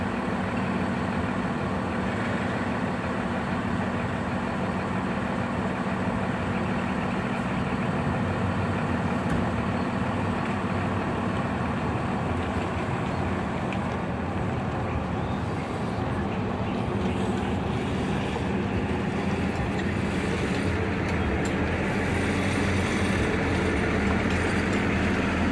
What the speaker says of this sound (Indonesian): Ini keberangkatan pertama ada Sinar Jaya rute Purwokerto dengan kode bus 35RD ya.